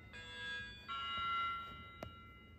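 A chiming clock strikes a bong: sustained, ringing tonal tones that hold steady for about two seconds with a second strike partway through, moderately loud and close, followed by a brief sharp knock.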